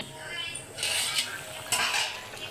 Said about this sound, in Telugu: ఇదండి ఉడుకుతుంది, ఇంకా ఎగరాలి.